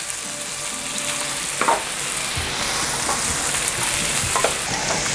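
Onions sauté in a pan for pork bulgogi with a steady, moderately loud sizzle, broken by a few clacks as the pan is stirred.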